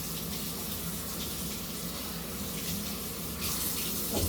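Tap water runs steadily into a kitchen sink while pans or dishes are rinsed after cooking pancit canton at home, a continuous close splashing gush that swells slightly near the end.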